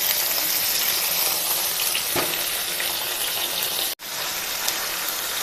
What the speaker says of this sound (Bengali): এইভাবে মিডিয়াম ফ্লেমে পেঁয়াজটাকে নেড়ে চেড়ে কালারটা একটু চেঞ্জ করে নেব।